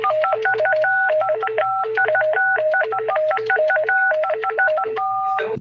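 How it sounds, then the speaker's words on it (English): Telephone dial pad touch tones tapping out the melody of Mary Had a Little Lamb, a quick string of clear beeping pairs in a monotone rhythm over a faint low hum. "back in the day, you could tap out Mary Had a Little Lamb with the dial pad"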